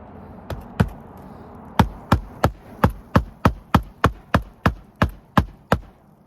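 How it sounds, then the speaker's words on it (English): Hammer striking a roof shingle during a repair, about fourteen sharp knocks close by in a fairly even rhythm after two early blows and a brief pause. "I'm just doing enough to get my hammer strike in there."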